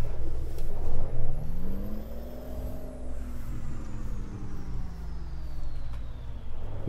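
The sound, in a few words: truck engine with Cummins ISX in Euro Truck Simulator 2 video game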